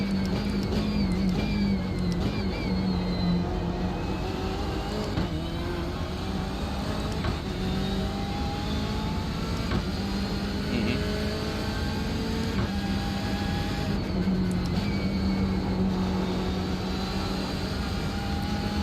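A BMW 335 race car engine in the iRacing simulator on the Summit Point track, holding a loud, steady drone with rising and falling harmonic pitch sweeps as it shifts through gears, with no voices.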